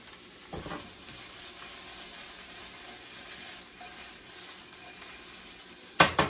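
Steady close-up sizzling and crackling of onions in a frying pan, continuous and even, with a couple of sharper clacks near the end.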